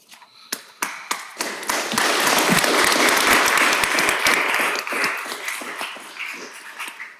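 Applause breaks out at a city council meeting, starting with a few scattered claps that swell into a dense, steady round before thinning back to individual claps.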